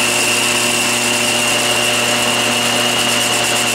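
A metal lathe turns a Morse taper under power feed with a loud, steady machine drone and a constant whine, and no talking.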